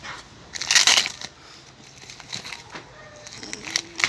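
Plastic grafting wrap is peeled off a lemon graft on a bitter orange tree, with close crinkling and crunching bursts amid light rustling, and a few faint bird chirps outdoors.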